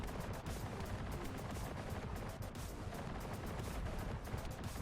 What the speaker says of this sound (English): Shooting the weak point.